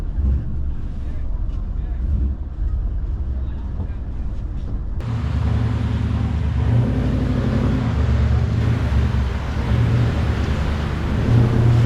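A 4WD towing a caravan crawls in low range over rough ground, a steady low engine drone with wind buffeting that grows louder and rougher partway through.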